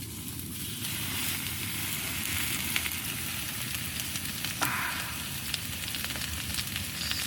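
Steak sizzling in hot vegetable oil on a wood stove while camping, a continuous close crackling sizzle with faint popping and a few sharp clicks.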